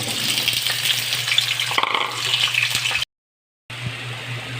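Afritada ingredients of tomatoes, bell pepper and onion with afritada sauce sizzle and fry steadily in a pan, a close, continuous crackle with a few stirring scrapes before cutting out briefly and resuming.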